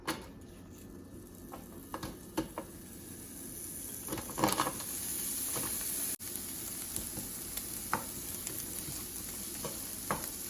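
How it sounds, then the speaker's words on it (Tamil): Chopped onions fry in sesame oil in a pan with potatoes and eggplant, a soft steady sizzle broken by occasional scraping stirs and clicks, near but fairly quiet, with no talk. "வெங்காயத்தை வந்து நான் கொஞ்சம் நல்லெண்ணெயில் லைட்டாக ஒரு கோல்டன் ப்ரௌன் ஆகிற வரைக்குள்ள திரும்ப வலிச்சு வைக்க போகிறேன்"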